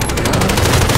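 Rapid gunfire in Call of Duty Search and Destroy, a brief, loud, dense burst of shots with a steady, rattling rhythm throughout.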